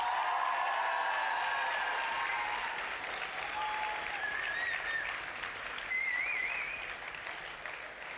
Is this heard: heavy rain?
no